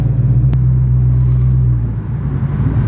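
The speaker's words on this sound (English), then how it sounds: "This car is running." Car engine idling after a brake job, a steady low rumble and hum close up, continuous and unchanging with no voices.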